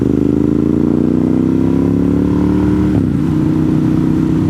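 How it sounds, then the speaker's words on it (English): An older Ducati Monster motorcycle with a dry clutch riding a country road in western North Carolina, its loud steady engine drone holding pitch, then dropping sharply and settling lower as the rider shifts, heard close with no talking. "The older monsters with the dry clutch just have more spirit than the new ones do."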